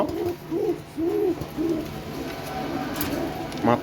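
A male Kormona pigeon coos in a repeated series of soft, low, rounded notes at a steady rhythm, close by, with faint background noise and a brief rustle near the end.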